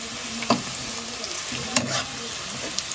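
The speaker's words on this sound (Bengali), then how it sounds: "ঠান্ডা তেলের মধ্যে পেঁয়াজটা ভাজা শুরু করে দিই" Onions fry in oil in a pan, started in cold oil. A soft, continuous sizzle is broken by a few louder scrapes and stirs, heard close with no talking.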